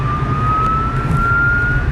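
A fire engine siren sounding loud and steady over a London street, one sustained wailing tone holding across the whole moment with a rumbling traffic bed beneath it and no talking.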